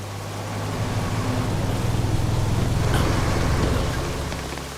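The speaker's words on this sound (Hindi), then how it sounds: "हाय रे, कितनी प्यारी बारिश हो रही है" A heavy downpour falls as a steady, dense hiss of rain. It stays loud and constant throughout, with no voices.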